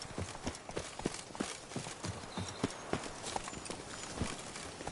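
Galloping horse hooves in The Witcher 3: Wild Hunt (Blood & Wine), a steady rapid clatter of hoofbeats running throughout at close range, over a continuous outdoor game ambience, with no talking.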